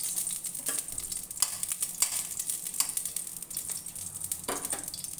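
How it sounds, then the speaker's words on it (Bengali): Ghee sizzling in a kadai, a soft, steady hiss broken by several brief scraping stir strokes, fairly quiet and with no voices. "এবার প্রথমে আমি কড়াইয়ের মধ্যে দিয়ে দিচ্ছি"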